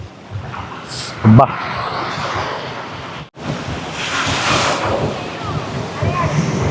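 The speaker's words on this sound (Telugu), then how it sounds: "చాలా పెద్ద బీచ్." Surf rolls along the wide sandy shore of Pantai Cenang beach in Langkawi, a continuous rushing wash under heavy wind buffeting the microphone, with people's voices in the background.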